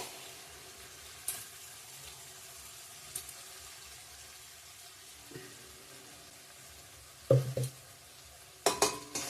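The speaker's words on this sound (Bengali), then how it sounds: "তেল ছেড়ে দিয়েছে দেখতেই পাচ্ছ পালংয়ের সাথে কাজু পেস্টটা দিয়ে দেবো" Spinach and cashew paste are stirred in an oily pan for palak paneer, with a low steady sizzle under occasional spoon scrapes and a few sharper clinks near the end, close up and without speech.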